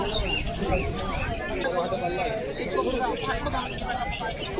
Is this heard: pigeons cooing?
yes